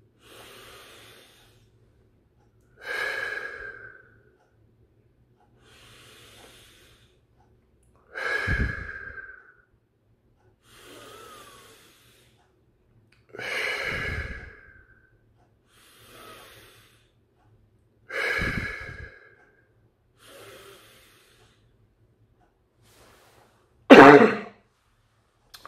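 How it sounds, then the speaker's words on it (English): Five slow, deep breathing cycles, each a soft inhale followed by a louder, drawn-out exhale, repeat at regular intervals in a quiet room before ending in one sharp, loud cough, all close by with no talking. "breathe in about 5 times deeply and to breathe out. And on the 5th part of the cycle, to cough"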